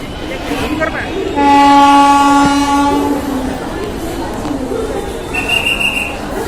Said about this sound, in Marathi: चैत्यभूमीला जाण्यासाठी आम्ही मेट्रो तसंच लोकलने प्रवास केला